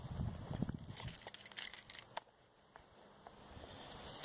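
Car keys on a keychain jangle in a quick burst of bright metallic clinks and rattles, close and fairly quiet, tapering into softer, scattered handling noise.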